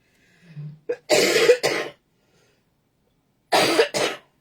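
A sniff followed by a few harsh coughs close up from a person sick and congested, a pause of silence, then two more coughs.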